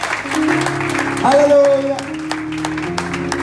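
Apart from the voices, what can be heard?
applause for the Lord at a church wedding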